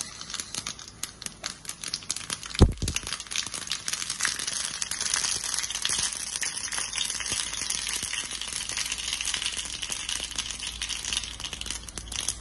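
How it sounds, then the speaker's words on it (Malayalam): Mustard seeds dropped into hot oil in a pan while making kurukku kalan give a steady, close crackle and sizzle of popping seeds, with one sharper pop early on. No one speaks. "ഇത് ചൂടാവട്ടെ, കടുകും ഉലുവേ നോക്കിട്ട് കൊടുക്കാം."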